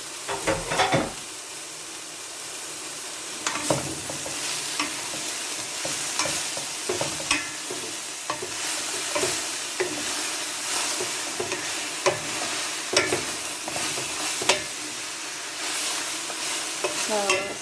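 Banana blossom for ginataang puso ng saging sizzles in a pan while being stirred, with repeated scraping clicks of the utensil over a steady frying hiss, close and alone.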